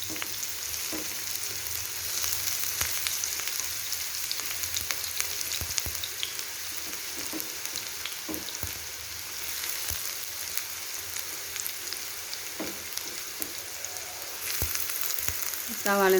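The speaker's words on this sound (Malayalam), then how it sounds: "എണ്ണ ഒന്ന് ചൂടായി വന്നപ്പോൾ ഇതിലേക്ക് കട്ട് ചെയ്ത് വെച്ചിട്ടുള്ള സവാള ഇട്ട് കൊടുക്കുന്നുണ്ട്" Sliced onions frying in hot coconut oil for beef ada make a constant, fairly loud sizzle across the whole stretch, with occasional light ticks and stirring knocks and a clatter near the end; nobody speaks.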